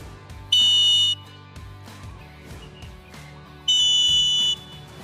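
An Acme Tornado referee whistle sounds two sharp, piercing blasts, each roughly half a second long and a few seconds apart, loud and near, over soft background music.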